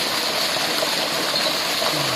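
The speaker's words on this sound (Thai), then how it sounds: "ปล่อยไหลตามลำธาร" Water runs steadily down a stream along the Chiang Mai–Chiang Rai Route 118, a continuous broadband rush with no break, fairly close and alone without talk.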